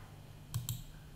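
A computer mouse is clicked twice in quick succession, close and soft against a low background hum.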